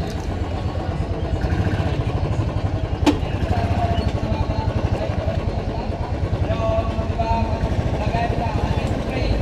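A motorbike engine stuck in a tight spot runs at a steady idle, a loud, close, rapidly pulsing throb that continues throughout, with a brief sharp clack midway and faint voices underneath.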